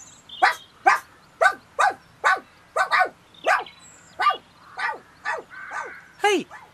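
A cartoon dog barks about a dozen times in a steady series of sharp, close, loud yaps, set in an animated garden scene.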